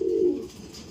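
A racing pigeon gives a single short, low coo up close, followed by a quiet pause.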